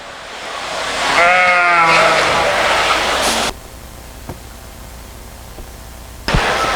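Sheep bleat repeatedly with a wavering, stacked tone at a sheep show, loud and close over a hissy hall background, then the calls stop and only faint room noise with a few clicks remains.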